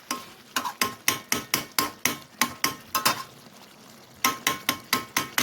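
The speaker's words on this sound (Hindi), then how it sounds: "ये टमाटरों को ऐसे ऐसे करना है आपने, चम्मच के साथ ही इनको तोड़ना है" A metal spoon repeatedly knocks and scrapes against a karahi while mashing tomatoes for a chicken karahi gravy, giving sharp, evenly spaced clacks in quick rhythm, a brief pause in the middle, then the beating resumes, close and loud.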